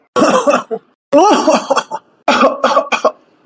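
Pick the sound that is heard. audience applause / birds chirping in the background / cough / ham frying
cough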